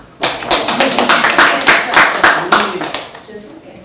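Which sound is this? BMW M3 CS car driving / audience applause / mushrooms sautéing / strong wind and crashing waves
audience applause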